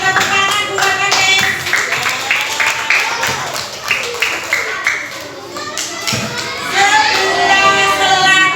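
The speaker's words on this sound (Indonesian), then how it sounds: "Tepuk tangan buat kami" People clap hands in a school classroom during an academic coaching session, bursts of close, bright clapping mixed with children's chatter and voices, some taps and thuds, rising into louder rhythmic clapping toward the end.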